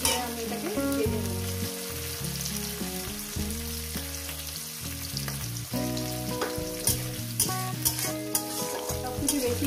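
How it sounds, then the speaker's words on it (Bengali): Onions fry in a pan with a steady, close sizzle while a utensil stirs them now and then. No one speaks. "পেঁয়াজ থেকে দিয়ে মিনিট দুই দিয়ে আমি এটাকে ভেজে নেব।"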